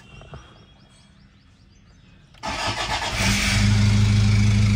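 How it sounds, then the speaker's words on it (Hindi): A Mahindra Bolero cold start: quiet clicks and cranking, then the engine catches abruptly and settles into a loud, close, rising idle with a steady rumble, no talk. "तो भाई गाड़ी को कर दिया है कोल्ड स्टार्ट"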